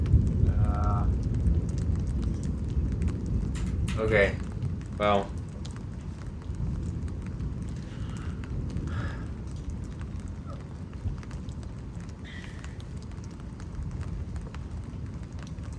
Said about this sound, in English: There's just a lot of thunder and lightning with it.